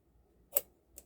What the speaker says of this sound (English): Just do this scissors here.